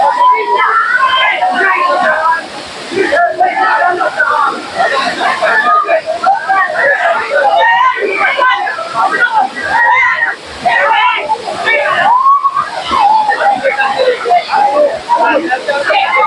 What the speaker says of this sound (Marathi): सुंदर असा धबधबा आहे.